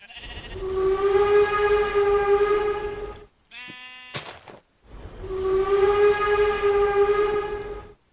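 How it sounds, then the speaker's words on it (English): Two long, steady harmonic steam locomotive whistle blasts with a short, choppy whistle burst between them, from a video game, loud and close, with no talking. "as far as I know, they both have the same whistle"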